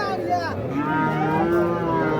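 A Sahiwal bull calf lows at a cattle market, one drawn-out moo rising and falling over the steady hum of a busy crowd.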